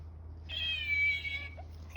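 A soft plush toy cat gives one electronic meow, a clear, drawn-out, close mewing tone over a faint low background hum.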